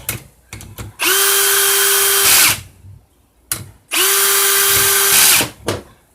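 Power tool driving bolts on a 4R70W transmission front pump during assembly, with two sustained whirring bursts of about one and a half seconds each, loud and close, separated by short clicks and handling knocks.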